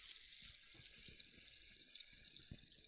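Sparkling water opened and poured, a steady fizzing hiss of carbonated bubbles with a few soft taps and clinks of the can or glass, quiet and close, no talking.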